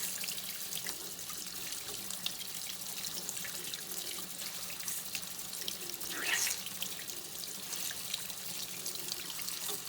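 Cold tap water runs steadily into a sink while a makeup sponge is washed, a constant close splashing stream with a slight surge around the middle and no talk.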